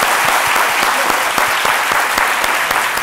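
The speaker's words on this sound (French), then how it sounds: "je voudrais qu'on l'applaudisse encore très très" A TV talk show studio audience claps loudly and steadily, with individual sharp hand claps standing out near the front of a dense, continuous wall of applause.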